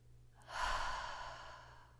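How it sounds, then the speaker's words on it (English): A single deep, slow exhale during guided yoga breathing, a soft close breathy rush that swells and then gently tapers over a couple of seconds with no talk. "Inhale deeply, tensing your body. And exhale to soften."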